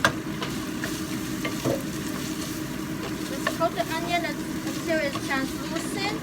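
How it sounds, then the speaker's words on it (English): Diced onion dropped into a hot pan alongside garlic and ginger paste, giving a steady sizzle and crackle throughout with stirring scrapes and some short high squeaks from the utensil. "I put the onion in there. Diced onion go down."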